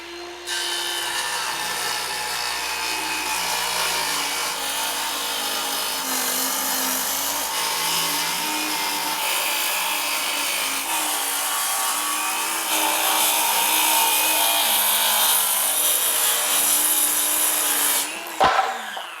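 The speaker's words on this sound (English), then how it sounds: "Now it's time to start cutting down the siding and exterior wall panels that are going to wrap around the four walls of this thing." OSB Smart Siding panels for a chicken coop's exterior walls are cut with a power saw, a loud sustained whining cut running nearly twenty seconds before stopping with a brief clatter, no talking.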